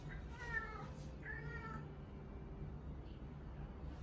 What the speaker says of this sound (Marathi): आज आमच्याकडे आलेला आहे नवीन पाहुणा आणि हा आमचा बोका